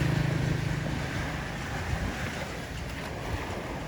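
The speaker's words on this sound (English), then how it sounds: "So we're walking along the beach now." Waves washing onto a beach while someone walks along the shore near a boardwalk, a steady broadband surf wash with wind noise on the microphone, continuous and fairly close, with no talking.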